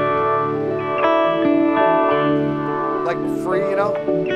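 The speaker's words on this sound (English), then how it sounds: "Univibe sounds like this." Electric guitar through a Univibe pedal gives a swirling, chorus-like warble over sustained chords and bends, loud and close, with distorted, reverberant tails.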